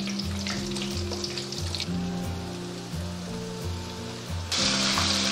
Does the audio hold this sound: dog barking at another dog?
no